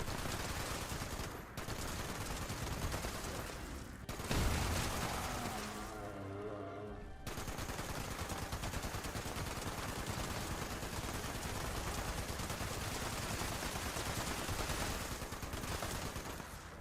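Rapid explosive gunfire from a .50 cal heavy weapon with explosive rounds in Fallout 76, a dense, continuous loud burst with a short pause midway before the firing resumes and carries on steadily.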